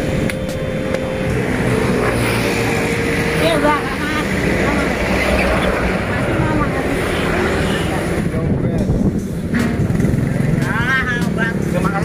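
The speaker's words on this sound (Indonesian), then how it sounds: "Wes, gose traktor Pak Atok iki" A tractor engine runs steadily and loudly close by throughout, with a continuous mechanical drone under people talking.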